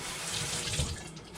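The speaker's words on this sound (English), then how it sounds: "Wash it off real quick." Water from a tap runs steadily over a tarnished silver ring being rinsed, a soft, continuous splashing stream with no voices.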